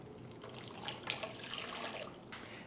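Hot water poured from a short height onto a teaspoon of beef bouillon powder in a cup, a close, bubbling, splashing pour lasting a few seconds with no talk over it.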